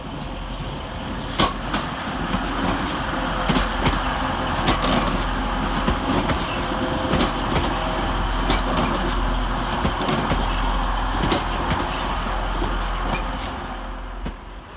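A Class 185 TransPennine Express diesel train arriving at Manchester Piccadilly, loud steady engine rumble with repeated clicks and clatter of wheels over rail joints throughout.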